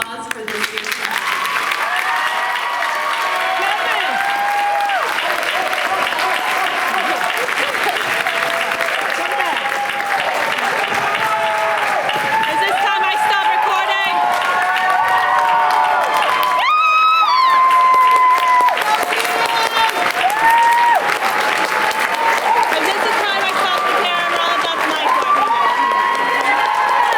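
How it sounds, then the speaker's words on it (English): A crowd at an awards ceremony breaks into sustained loud applause and cheering, a dense clatter of many hands with shouts and whoops rising over it, swelling briefly midway before carrying on. "how about one more round of applause for this year's class?"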